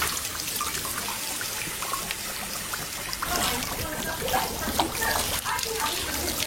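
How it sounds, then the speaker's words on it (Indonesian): A water tap runs on, flooding the downstairs floor of a house, a continuous splashing trickle that grows busier and louder in the second half, with faint background sounds. "Carl menyalakan keran air hingga memenuhi ruang lantai bawah"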